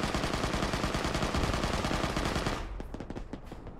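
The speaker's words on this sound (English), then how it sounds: "Where's that guy shooting from?" Rapid automatic gunfire rattles loudly and steadily in a military ArmA combat game, a sustained machine-gun stream that cuts off abruptly, followed by a few scattered, quieter distant shots.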